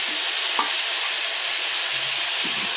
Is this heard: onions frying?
yes